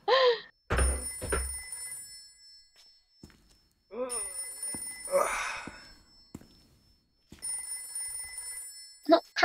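A telephone rings in the survival horror video game Haunting Ground, repeating bursts of a bright electronic ring separated by pauses, with short game sounds and a sigh in between.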